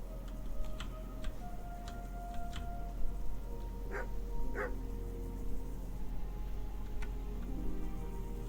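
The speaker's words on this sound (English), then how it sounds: "Dogs won't bark at me" Dogs bark a few times in Kingdom Come Deliverance, short sharp woofs over a steady low background hum, moderately distant and fairly faint, with no talking.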